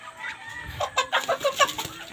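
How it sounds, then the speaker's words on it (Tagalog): A chicken clucks close by on a farm where ducks are fed, a quick run of short, choppy clucks rising in intensity, with faint rustling around it. "Pumasok pala yung manok."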